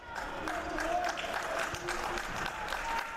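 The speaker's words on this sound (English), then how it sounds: "And applause from the crowd" A crowd at a college wrestling meet between Hofstra and Buffalo gives sustained, moderately distant applause that fills the arena, with voices murmuring beneath it.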